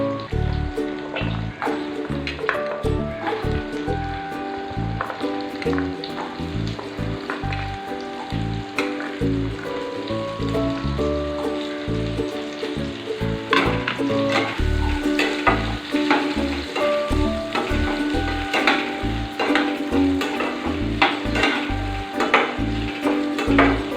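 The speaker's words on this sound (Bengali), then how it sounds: "তেলের মধ্যে এবার আমি দিয়ে দেবো ডুমো করা আলু।" Diced potatoes sizzle steadily in hot oil for a long stretch, with frequent light clinks and scrapes from stirring over the crackle and no talk.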